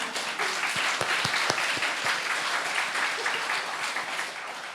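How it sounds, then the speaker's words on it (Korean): A church congregation claps during a Sunday sermon, a dense burst of many hands applauding together at close range, with a few sharper individual claps standing out before it fades slightly at the end. "우리 세례 요한 할아버지에게 박수 한번 쳐주시죠."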